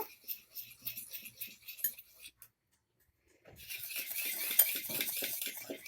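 Sunflower oil being mixed into banana cake batter in a bowl makes repeated scraping and clinking utensil strokes, close by, with a short pause before a denser stretch of stirring.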